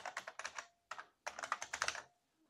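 A computer keyboard clatters as a keyword is typed in, with quick bursts of crisp, close keystrokes broken by short pauses, then a final flurry of taps trailing into quiet.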